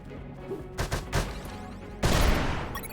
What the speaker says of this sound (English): The fight began as he tossed the first grenade at me.